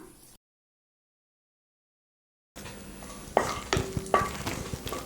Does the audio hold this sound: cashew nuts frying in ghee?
yes